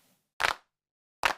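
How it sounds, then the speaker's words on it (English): Hand claps percussion sample from EZDrummer: two sharp, dry claps about a second apart, with silence around them. "And the hand claps option."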